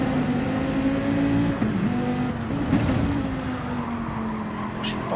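A Viper race car in a racing game revs hard through a corner, its engine a loud, steady drone with a brief dip and recovery partway through, close and alone.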